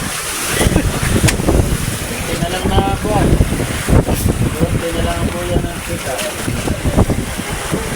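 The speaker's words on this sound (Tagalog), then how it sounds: "Itong alon daw mga kabiwas, 7 to 8 feet ang laki ng alon. Tapos ay nasa 40 yung hangin." Strong wind buffets a fishing mother boat at sea as big waves of seven to eight feet crash and slosh around the hull, loud and continuous with heavy microphone wind rumble and voices talking underneath.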